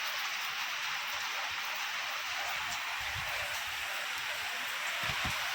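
Heavy rain pours steadily outdoors in Wadwani, a dense, even hiss with scattered low patters of drops hitting surfaces nearby, with no voices over it.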